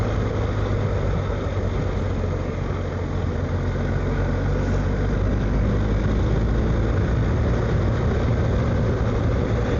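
A car engine held in fourth gear at 3,000 RPM on a drive from Cornwall to Wales gives a loud, steady low drone with road rumble throughout, unbroken for the whole stretch.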